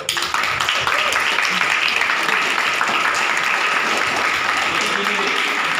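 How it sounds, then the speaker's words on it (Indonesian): Students at a leadership training session at an Islamic boarding school break into loud, dense applause from a roomful of people, sustained at full strength throughout. "Oke, tepuk tangan dulu."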